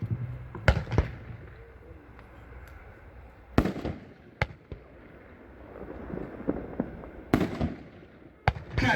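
Shake It Up 9-shot consumer firework cake launching outdoors, sharp separate bangs spaced across several seconds with crackling between, moderately distant.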